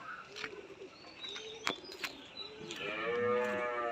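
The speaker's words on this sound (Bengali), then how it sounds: "দেখো অনেক বড় গরু।" A big cow at a cattle farm, recently milked in the morning, gives one long, fairly close moo near the end after a quiet stretch scattered with faint bird chirps.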